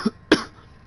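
Two short, sharp coughs from one person close to the microphone, about a quarter second apart, followed by quiet.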